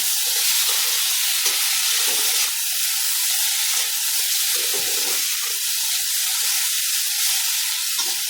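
Onion, tomato and beans frying together in a pan with little oil for sambar, a steady close sizzle with occasional crackles and stirring scrapes, no talk.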